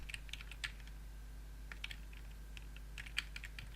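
Computer keyboard keys click in irregular bursts while someone plays Undertale, with close, crisp taps over a steady low electrical hum.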